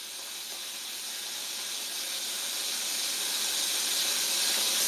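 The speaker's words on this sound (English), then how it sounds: "There's nothing like the sound of sizzling meat" Steak sizzles in a hot pan with a continuous bright hiss that slowly grows louder, with no voices.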